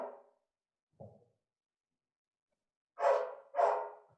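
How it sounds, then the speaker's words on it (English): Dogs bark in a quiet room: a lone short bark, a softer low yip a second later, then two loud barks close together after a pause, nearby with silence between. "dogs barking"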